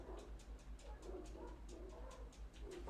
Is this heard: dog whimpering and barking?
yes